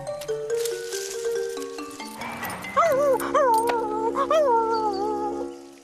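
A cartoon puppy whimpers in a series of high, wavering whines that rise and fall, close and fairly loud, following a brief chime-like tone.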